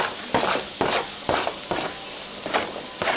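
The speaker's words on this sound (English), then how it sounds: "this is where I'm going to add in my veggies. I'm going to just add them all in." Vegetables go into a hot pan with browned beef short ribs, giving a steady close sizzle with rhythmic bursts of scraping and stirring about twice a second.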